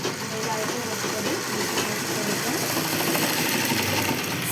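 A sewing machine stitches cloth with a long, large stitch while picot-edging fabric, giving a steady, continuous mechanical whir with a fine rapid rhythm throughout, close and moderately loud.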